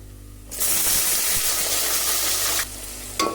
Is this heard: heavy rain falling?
no